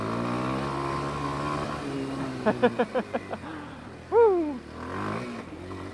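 A 2025 Kawasaki KLX230R four-stroke dirt bike engine pulls in second gear, a low, grunting drone with a short run of rapid popping pulses, and a rider whoops once over it.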